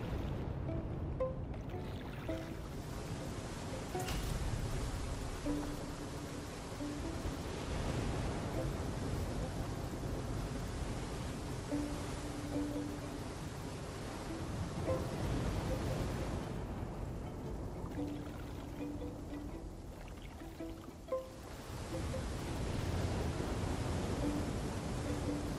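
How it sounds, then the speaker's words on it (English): Steady rain falls in the survival video game The Flame in the Flood, a continuous broad hiss of water over a river setting that holds at an even level throughout. "Alright, now it starts raining."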